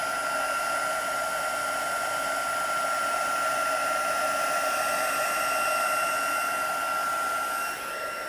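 A heat tool blows steadily over a watercolour elephant painting, a continuous close, loud whirring rush of air that holds unbroken throughout and dips slightly at the very end.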